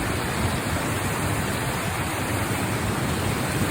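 Water flows steadily over rocks in an outdoor Arizona setting, a dense, unbroken rushing hiss that stays loud and even throughout with no voices.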